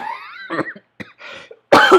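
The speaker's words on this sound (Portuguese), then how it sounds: "eu ainda tô com tosse, vocês acreditam nisso ainda?" Several short coughs, close by, separated by brief pauses, with the last one the loudest and harshest.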